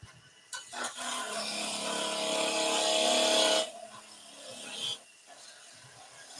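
A skew chisel cuts wood on a lathe while potting shed tools are turned, a steady close hiss of shaving for about three seconds, then a shorter second pass.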